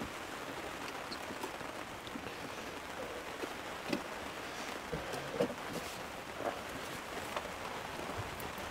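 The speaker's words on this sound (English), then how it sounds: "it's raining, as you can hear." Steady rain patters and hisses throughout, with a few louder drips landing close by now and then; no one speaks.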